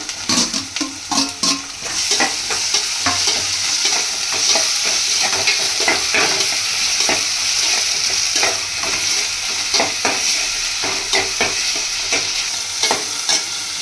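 Tomatoes sizzle in hot oil with ginger-garlic paste for mutton paya while a spoon stirs and scrapes the pan in quick repeated strokes, loud and close, with no talking.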